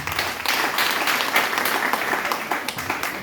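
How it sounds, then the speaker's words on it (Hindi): Sustained applause from a crowd, many hands clapping together in a dense, steady patter throughout. "एक बार ताली बजा दीजिए।"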